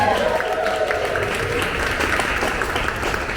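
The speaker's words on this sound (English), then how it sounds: "Give her a round of applause." Applause from a comedy club audience at a stand-up set, a steady wash of clapping that holds at moderate loudness throughout, with no one speaking over it.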